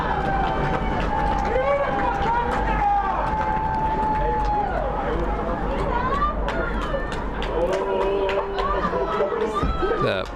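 Loud, sustained crowd noise fills a high school football stadium on senior night, with the crowd's roar and chatter steady throughout, an announcer talking over it, and a whistle-like tone drifting in the mix.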